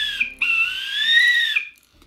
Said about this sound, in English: It's not the best whistle, huh?